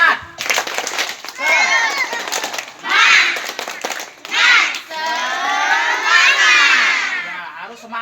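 Schoolchildren chanting the tepuk semangat clapping chant together in a school assembly, a loud crowd of young voices shouting in bursts with rhythmic claps mixed in, filling the whole stretch.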